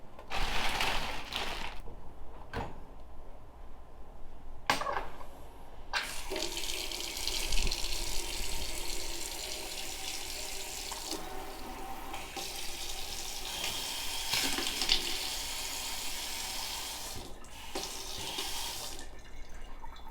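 A kitchen faucet running water into a sink, a steady close hiss and splash that breaks off briefly a few times as the tap is turned off and back on, with no voices.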